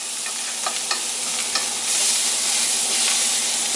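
T-bone steak searing over an open fire, a loud, continuous hissing sizzle with a few faint crackles, close and steady with no talking.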